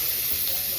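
Pork sizzles and hisses in a pan as it begins to fry, giving a steady, close, bright crackle for a brief moment.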